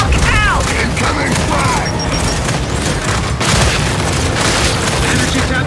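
A frag grenade explodes amid Gears 5 Horde combat, a loud boom within dense gunfire, clanking mechanisms and chaotic battle noise, with game voices calling out over it.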